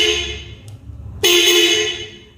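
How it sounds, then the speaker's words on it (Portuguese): A tricycle's horn blares once briefly, then sounds again in a longer, loud steady honk up close. "Agora aqui virou buzina"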